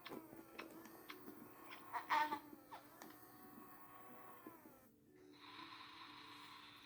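Robot baby doll making its sleeping breathing sound, a raspy electronic snore-like rhythm of slow wheezy breaths, fairly close and alone, ending in a steady hiss.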